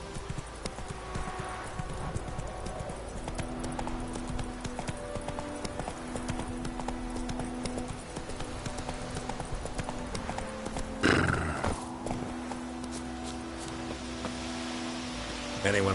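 Roach, Geralt's horse in The Witcher 3, moves with steady, prominent hoof clip-clops and lets out a neigh partway through, close and continuous over outdoor game ambience.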